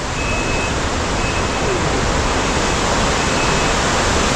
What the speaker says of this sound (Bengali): আর বাদিক থেকে বিয়াস নদী বয়ে চলেছে